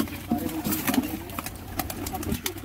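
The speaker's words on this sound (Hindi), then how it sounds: "सारे कबूतर छोड़ दिए, एक से एक अच्छे कबूतर पड़े हैं," Pigeons coo and flutter close by, several soft throaty calls overlapping amid rustling and scuffling, with a voice speaking among them.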